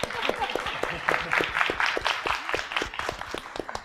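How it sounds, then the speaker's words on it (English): Audience applause at a talk on transgressive sounds and atmospheres: a short burst of hand clapping from a modest crowd, uneven and close, with voices speaking over it. "Round of applause?"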